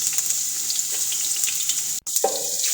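Garlic sizzles and fries in a pot with a steady bright crackle, close and loud, with a brief clatter of stirring near the end.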